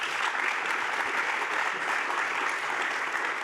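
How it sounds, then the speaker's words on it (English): A live podcast audience in Queenstown gives the event sponsors a steady round of applause, moderately distant and even throughout, with no talking over it. "quick round of applause for the sponsors."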